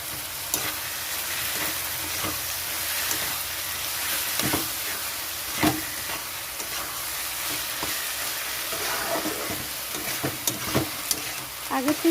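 Poppy seed paste being fried and stirred in a pan, a soft continuous sizzle with occasional light scrapes and taps of the spatula, fairly quiet and close.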